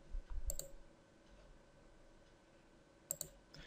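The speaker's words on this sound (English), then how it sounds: "To insert a chart, navigate to the Insert tab and click on the Chart button." Computer mouse clicks in Microsoft Outlook 2013: two short, sharp double clicks, close and crisp, separated by a few seconds of quiet room tone.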